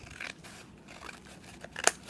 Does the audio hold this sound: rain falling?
no